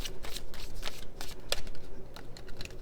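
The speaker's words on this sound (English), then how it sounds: "This is just to help me shuffle the purple ones." Close, brisk shuffling of a deck of purple tarot cards, a rapid run of papery riffles and flicks filling the whole stretch with no talking.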